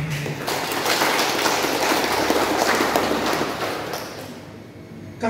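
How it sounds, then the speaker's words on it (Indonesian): Sustained applause from a church congregation in the Diocese of Sibolga, dense steady clapping filling the room for about four seconds before fading toward the end. "Tepuk tangan untuk mereka."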